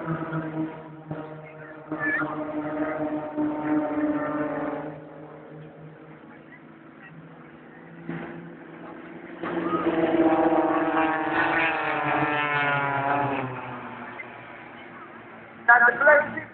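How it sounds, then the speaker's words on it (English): A Supermarine Spitfire flies at the Sunderland International Airshow with a droning propeller engine that rises and falls as it passes and rolls. An announcer speaks over the sound throughout. "it's a Spitfire roll."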